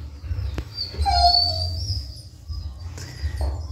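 A young female dog whimpers close by, with drawn-out, high, wavering whines over a low background rumble, then a brief softer whimper near the end.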